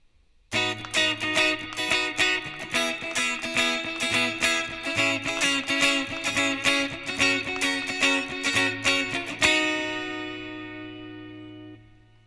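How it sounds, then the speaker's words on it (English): Clean, choppy funk rhythm guitar playing closed-voiced triads on three adjacent strings, strummed in a tight, steady pattern, ending on a final chord that rings out and fades. "The first thing that may come into your mind when hearing these is funk style rhythm guitar"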